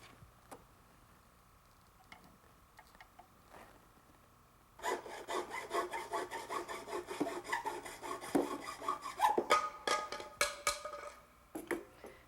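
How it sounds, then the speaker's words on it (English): A handsaw cutting through rigid ABS plastic plumbing pipe, close rhythmic back-and-forth rasping strokes that start after a quiet lead-in and grow louder toward the end. "Now, I'm cutting the rigid pipe that will connect the toilet flange elbow to the sanitary T."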